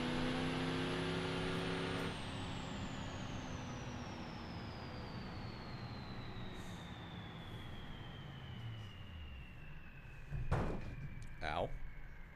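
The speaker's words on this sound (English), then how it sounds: "Love drifting a box truck." A box truck drifts in a video game, its engine drone sliding steadily downward in pitch over several seconds, with a couple of sharp thuds near the end.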